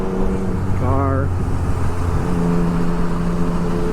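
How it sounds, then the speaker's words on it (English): A car passes close by a rider on a motorcycle in light traffic, its engine note rising and sweeping past over steady wind and engine rumble, with a voice speaking briefly. "Car."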